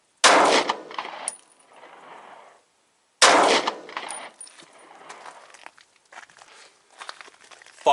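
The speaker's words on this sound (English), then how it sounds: "Five shots, M&P 9, 147 grain hand loads." Two loud 9mm shots from a Smith & Wesson M&P 9 pistol firing 147 grain handloads, each a sharp crack followed by a fading outdoor echo and faint metallic clinks.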